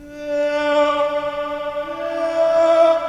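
A sustained, harmonically rich vocal-like sample from Arcade holds steadily for about three seconds, with a slight swell near the end and no spoken words.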